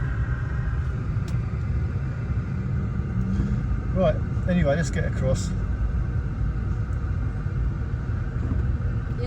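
Vehicles idle and rumble on a main road in the Philippines where cross traffic has blocked the way, a low continuous engine drone beneath someone talking nearby.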